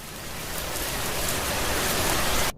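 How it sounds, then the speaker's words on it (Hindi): Steady monsoon rain pours down as a dense, even hiss with no voices, continuing without a break before cutting off abruptly at the end. "हाँ, बारिश हुई।"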